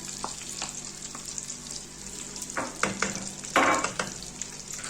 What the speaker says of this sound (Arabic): حطيت معلقة سمنة على معلقتين زيت، معنا بصل مقطع شرايح اهو. هننزل بالبصل